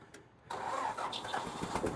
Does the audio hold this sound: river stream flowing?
no